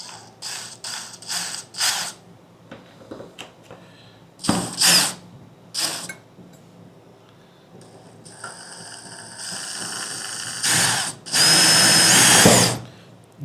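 A power drill whirs into metal in short bursts, stopping and starting, then a longer loud grinding run near the end, close by.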